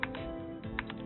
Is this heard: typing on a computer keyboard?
yes